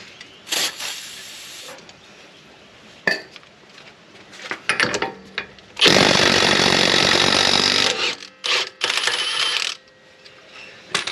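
A Milwaukee power tool works on a Mk4 Supra during an axle change, with bursts of loud whirring and rattling, the longest about two seconds, separated by short metallic knocks and clatter, close to the listener.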